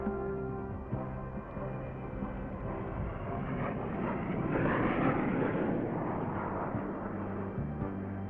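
An XV-15 tiltrotor aircraft flies in airplane mode, its steady, fairly loud engine and rotor drone holding throughout and swelling a little toward the middle, with no voices.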